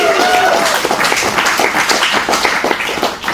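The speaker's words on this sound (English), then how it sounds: "Amber Rose McNeill, one more round of applause" Audience giving Amber Rose McNeill a round of applause at a festival Q&A, dense continuous clapping filling the room, with a brief voice or whistle near the start.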